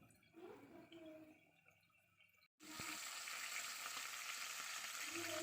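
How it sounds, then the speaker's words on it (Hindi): Chicken browns in a pan for dhaba-style chicken karahi with salt added. A faint sizzle and light stirring cut out briefly, then a loud, steady, close frying hiss fills the rest without speech. "मैं इसको अच्छी तरह से भूनूंगी यहाँ तक कि चिकन का रंग जो है"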